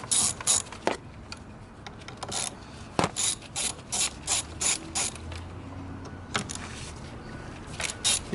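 Rapid ratchet clicks come in short repeated bursts from a hand ratchet loosening T30 Torx bolts on the fuel filter housing of a Volkswagen Golf/Jetta TDI, close and crisp with brief pauses between strokes.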